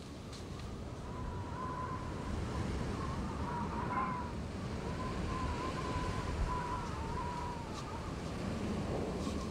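Wind blows outdoors in a constant broad, rushing roar that stays fairly quiet and even all the way through, with a faint low tone running under it and no clear voices.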